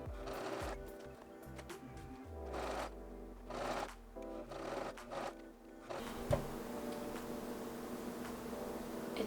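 A sewing machine stitches thrifted clothes being altered, running in several short rattling bursts separated by brief pauses, then a shift to a steadier whirring hum near the end.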